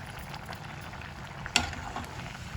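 Mushroom gravy with curry leaves bubbles in a pan, a quiet, even frying hiss with soft popping bursts and one sharper crackle midway, faint and without voices.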